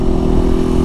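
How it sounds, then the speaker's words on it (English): A motorcycle engine rumbles loud and close in a brief, steady burst with no speech over it. "Yeah, we're back on the bike making a video."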